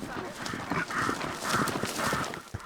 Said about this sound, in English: For those who love the horses, it's always cool to watch the wranglers driving the herd in the morning